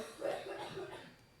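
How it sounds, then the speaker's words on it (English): A single productive, wet cough at moderate level, lasting about a second with a couple of chesty bursts, close to the microphone in an indoor setting. "It's just a very unfortunately timed productive cough."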